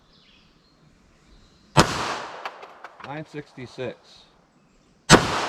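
Two sharp, loud pistol shots from a Smith & Wesson Shield EZ with a 3.675-inch barrel firing .22 Mag, a few seconds apart, with someone speaking briefly between them.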